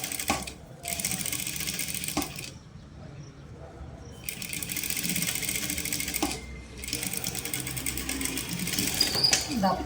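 A sewing machine stitches a blouse with black thread in bursts of rapid, steady whirring, stopping briefly between runs, fairly close and clear, while someone speaks quietly at times.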